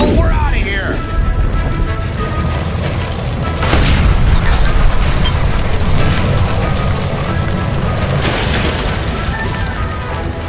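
A gas line explodes inside the Nicholson Electroplating building in L.A. Noire, loud booming blasts and rumbling debris layered under continuous game noise and shouting voices.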